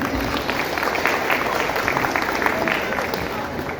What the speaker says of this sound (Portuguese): Vamos aplaudi-los.